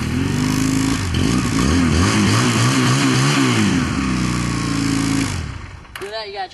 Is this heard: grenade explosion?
no